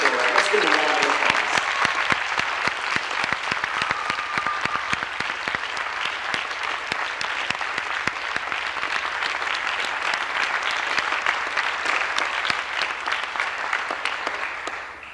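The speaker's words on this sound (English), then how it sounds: "Let's give them a round of applause" A school play audience claps for the organizers, loud sustained applause from a sizable crowd lasting the full stretch and trailing off at the very end.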